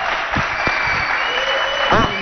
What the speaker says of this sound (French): Applaudissez pour votre directeur.